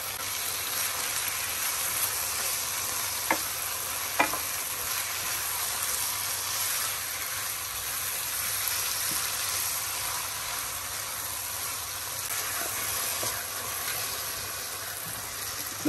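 Potato keema frying in a pan gives a steady, hissing sizzle throughout, with a few faint clicks of a utensil against the pan and no voices.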